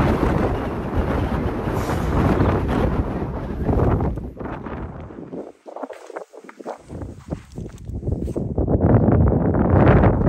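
Wind gusts over an open hill in Northumberland National Park, buffeting loudly and close, then dropping to a brief near-lull before rushing back in strong, with no voice present.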